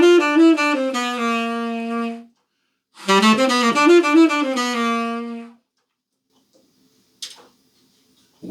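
Tenor saxophone playing an easy altissimo riff in its lower register, two sustained melodic phrases of rapid notes with a pause between them, close and clear, followed by quiet and a faint brief click.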